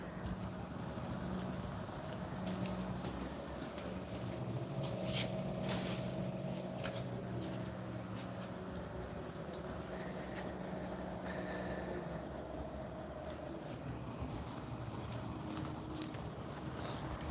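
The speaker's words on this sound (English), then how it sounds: "Can you hear those crickets?" Crickets chirp at night in a fast, regular pulse against a quiet outdoor backdrop, with faint distant hum and a few brief clicks.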